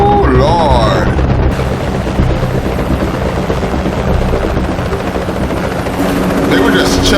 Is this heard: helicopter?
yes